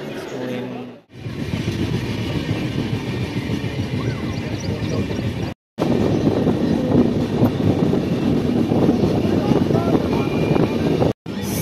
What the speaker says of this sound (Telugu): ట్రైన్ అయితే స్టేషన్లో మూవ్ అయింది